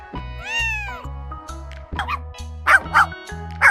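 A dog lets out a quick series of short barks and yips, sharp bursts that grow louder toward the end, following an opening meow-like cry, all over a steady background beat.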